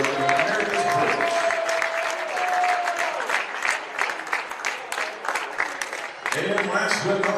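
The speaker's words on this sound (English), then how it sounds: "give a big round of applause" Crowd applause fills a basketball gym for a player being introduced at a college game, sustained clapping and cheers with a public address voice speaking over it.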